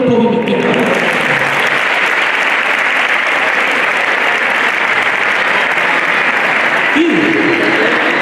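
A large audience applauds at a sports awards gala, a dense, loud, steady roar of clapping that carries on for several seconds after a speaker's voice briefly at the start and near the end.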